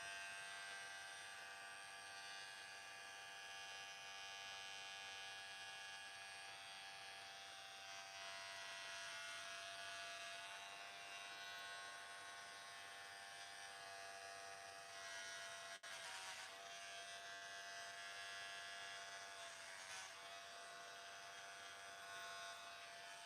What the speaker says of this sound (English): Make sure your clipper is like this, straight, like this, straight.